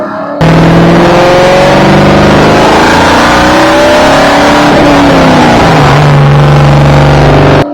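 A modified 1991 Ford Mustang Foxbody engine roars loud and close, holding a steady rumble that climbs and falls in pitch before settling into a deep idle, with no voices.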